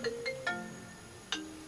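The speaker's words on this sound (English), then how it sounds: "First the text, now a phone call, baby." A phone ringtone for an incoming call chimes in a quick series of bright melodic tones, then one more a moment later, thin and fairly quiet with no voices over it.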